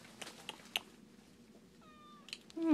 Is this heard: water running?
no